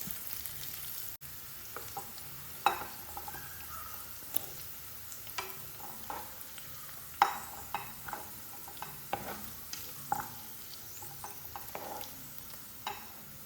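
Prawns fry in coconut oil and are scooped out, giving a quiet, steady sizzle broken by scattered light scrapes and clicks of a utensil in the pan.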